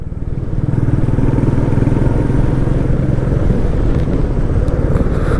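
Motorcycle cruising at speed on a highway during a long-distance ride in northeast India, its engine a steady loud drone with wind rush throughout, no pauses or voices.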